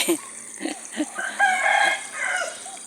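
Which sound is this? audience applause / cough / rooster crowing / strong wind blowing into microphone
rooster crowing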